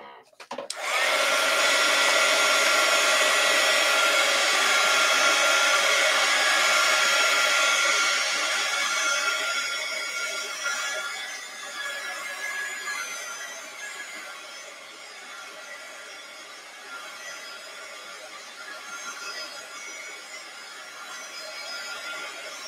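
A heat tool or hair dryer runs continuously to dry FW acrylic ink on an art journal page, a loud steady whooshing blow that softens and wavers partway through as it is moved about.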